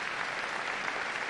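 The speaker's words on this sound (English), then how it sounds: "And we hear the applause, and Pope Leo XIV comes out onto the stage" Steady audience applause fills the hall as Pope Leo XIV walks onto the stage for his first press conference, a dense, even wash of clapping with no speech over it.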